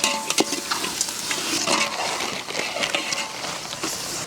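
A large pot of tomatoes and green chillies is stirred outdoors, with steady scraping and sloshing plus a soft sizzle underneath, loud and close throughout.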